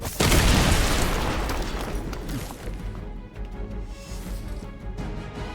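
An explosion in the video game Marvel's Midnight Suns bursts in with a loud, heavy boom at the start, then rumbles and decays slowly under a continuing game soundscape, with no speech.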